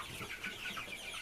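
Pastured White Mountain Vantress chickens cluck softly at a moderate distance, a steady murmur of overlapping calls from the flock with a continuous outdoor background.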